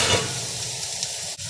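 Bihon rice noodles frying in a pan, a close, steady sizzle and hiss with soft stirring scrapes, no talking.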